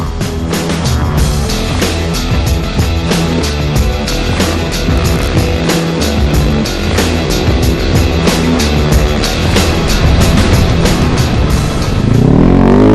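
A Honda rally motorcycle races in the Dakar Rally, its engine a loud, continuous buzzing roar with rapid pulsing, close and unbroken for the whole stretch, swelling slightly at the end.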